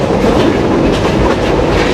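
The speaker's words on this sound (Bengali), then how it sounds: "আর এই হচ্ছে আমাদের রূপসা এক্সপ্রেস ট্রেন।" Rupsha Express passenger train at Bheramara railway station in Bangladesh, a loud steady rumble of wheels and carriages with rhythmic clickety-clack over the rails, close and continuous with no voices.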